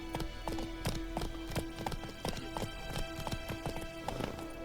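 Clip-clopping hooves of a horse in The Witcher 3: Wild Hunt, a steady rhythmic run of hoof beats over a constant music bed, close and clear.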